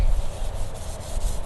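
A furniture leg is being wet sanded before chalk painting, giving a steady, close, rhythmic rubbing and scraping with no voices.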